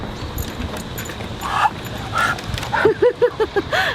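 A passing dog yips and barks outdoors on a Cleveland street, a quick run of short high barks near the end over general street noise and a brief murmur of voices.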